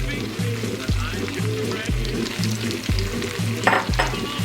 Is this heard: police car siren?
no